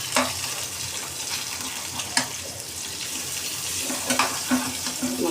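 Surmai fish frying in a pan over medium-high heat, a continuous bright sizzle with occasional sharper pops and crackles, close and steady with no voices.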